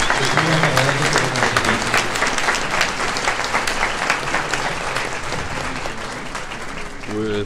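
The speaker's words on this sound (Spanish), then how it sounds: "le damos un merecido aplauso al señor gobernador" Loud applause from an audience honoring a state governor at a keynote conference on the national 2030 Agenda strategy, sustained clapping throughout, with faint voices and a brief tonal sound near the end.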